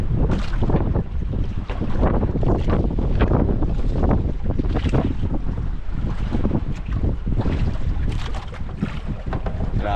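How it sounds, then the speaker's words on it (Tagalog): Strong wind roars steadily at sea for the whole stretch, buffeting the microphone beside a small boat on rough, flowing water, loud and close with no talk. "Grabe hangin mga idol ay."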